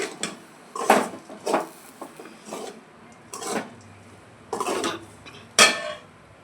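A spoon stirs curry leaves and coriander through puffed rice upma in a pan, giving rhythmic scraping strokes about every second, close and moderately loud over a light background hiss, with no voices.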